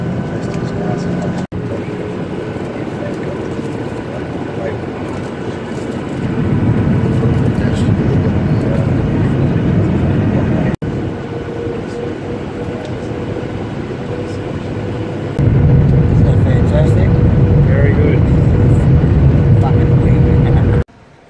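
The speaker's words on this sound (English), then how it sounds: "Waiting on the tarmac, there's five planes in front of us" Airplane engines hum in a loud, steady rumble while the plane waits on the tarmac in a queue behind five other planes, swelling louder in stages as the engines rev.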